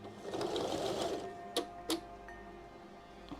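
A sewing machine stitches quilt blocks together in a quick, steady whirring run that stops after about a second and a half, followed by a few small mechanical clicks, close and alone.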